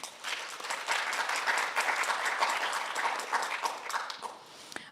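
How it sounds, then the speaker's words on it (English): An audience at a community sculpture showcase applauds steadily for several seconds, a dense, moderately distant patter of many hands that tapers slightly at the end. "I also want to give a round of applause to the cohort"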